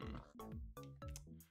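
Minecraft pigs oinking in a game pen, a run of four or so nasal, grunting oinks in quick succession, fairly close and clear with no talking.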